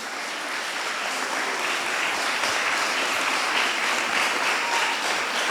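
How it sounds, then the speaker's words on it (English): Sustained, dense applause from an audience at a carol singing competition in Goa, filling the whole stretch steadily and loudly with no talk over it. "he really deserves a big round of applause"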